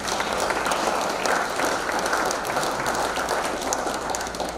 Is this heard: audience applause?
yes